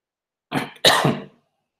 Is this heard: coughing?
yes